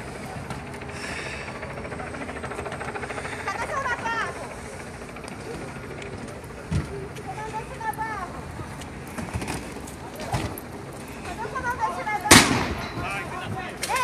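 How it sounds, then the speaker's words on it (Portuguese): Several sharp, loud rubber bullet shots from riot police ring out amid a noisy outdoor crowd in a favela, with distant shouting and voices throughout; one especially strong crack stands out near the end. "Tiro de borracha."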